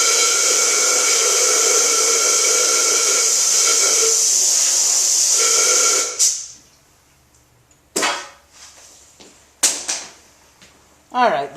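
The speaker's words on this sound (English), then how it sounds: "I'm just going to blow this out really quick with some compressed air too" A compressed air nozzle blows out a part being prepped for Cerakote coating: a loud continuous hiss for about six seconds, then several short sharp bursts separated by quiet gaps.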